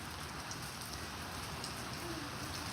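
Steady rain falls, a dense, even hiss of drops hitting surfaces that continues unbroken with no voices.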